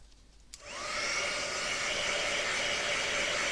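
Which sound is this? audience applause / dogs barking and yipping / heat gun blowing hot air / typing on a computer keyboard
heat gun blowing hot air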